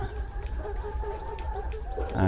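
Laying hens cluck inside a poultry coop, a steady murmur of overlapping calls that carries on throughout with soft, irregular peaks and no voices.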